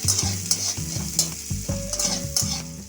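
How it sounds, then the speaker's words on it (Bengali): Chopped onion, dried red chilli and whole cumin sizzling in a pan, stirred with repeated clattering scrapes of a utensil over a loud, steady frying hiss, heard close up with no voices. "এবার এটা একটু ভেজে নেব"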